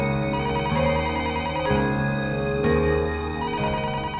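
A telephone rings at home, heard as a steady repeating melodic ringtone pattern that runs throughout, loud and close with no talk over it.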